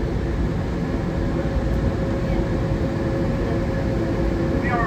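Newark Airport AirTrain people mover riding toward the rail link station, a steady dense rumble and rolling hum with faint high squeals near the end, no talk.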